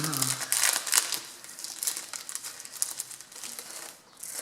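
Paper mail envelope with a wax seal being opened by hand, close crinkling and rustling of paper in irregular bursts for several seconds, with faint talking underneath.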